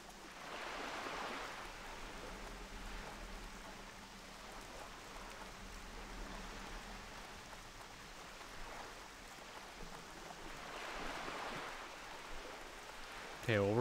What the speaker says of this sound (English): Running back in the rain.